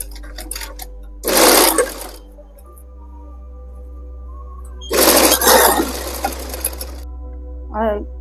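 A sewing machine stitches gota trim onto a chunni in two short whirring runs, close and loud, separated by quiet gaps with a low steady hum and a brief voice near the end.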